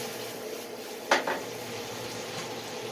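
Scampi ingredients sizzling in a pan, a steady close hiss broken by a sharp clink of a utensil scraping the pan as the food is stirred around, with no voices.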